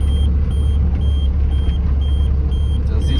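A car's tire pressure warning pipes a regular series of short, high beeps about twice a second, riding over loud, constant engine and road rumble inside the vehicle at night on a dirt track.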